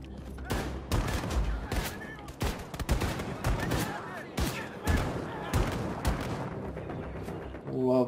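Rapid bursts of gunfire from a gun in Wolfenstein 2, loud and close with repeated sharp shots in uneven clusters and heavy booming impacts, continuing across the whole stretch.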